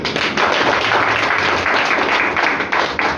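Audience clapping at a DXN business gathering, a dense, steady wash of many hands filling the whole stretch, loud and close with no pauses.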